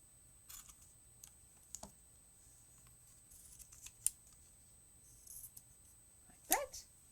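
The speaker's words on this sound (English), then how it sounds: "And I will snip off the end." Scissors snip off the end of heat transfer vinyl (HTV) at a crafting table, giving a few faint, sparse clicks and snips with one sharper cut near the end.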